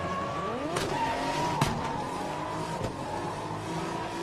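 A car drifting and braking past cones at a Red Bull Car Park Drift event in Muscat, engine droning and shifting pitch with tire noise and sharp transient hits, heard at a moderate distance, no talk.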